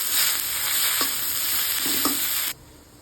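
Pumpkin leaves, salted, fry in a pan with a steady loud sizzle and a few scraping stirs, the hiss cutting off abruptly near the end.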